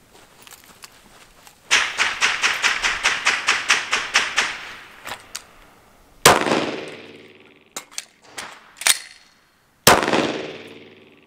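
A handgun fires during a range shooting drill, with sharp loud reports ringing out; a fast string of about a dozen evenly spaced shots comes first, then several separate shots with pauses between.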